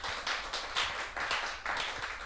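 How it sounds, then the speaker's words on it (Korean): A church congregation at a Sunday service claps for a child, a short burst of fairly even, rhythmic clapping from a group in the room, with little talk over it. "박수를 한번 해줘야죠, 우리 박수를."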